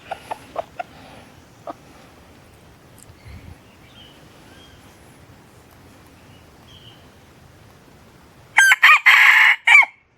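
After several quiet seconds with a few faint clicks, a rooster lets out a loud, close crow in three quick bursts near the end.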